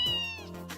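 A cat named Antoine from the video game Trails in the Sky gives a single short, clear meow, close and alone with no talking.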